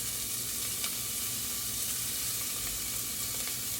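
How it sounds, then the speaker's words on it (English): Bacon strips hit a preheated pan for scallop and bacon chowder, giving a steady, dense sizzle with a faint crackle that runs the whole time without any talk. "so in goes the bacon. I've been preheating this pan,"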